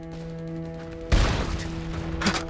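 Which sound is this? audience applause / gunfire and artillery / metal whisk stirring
gunfire and artillery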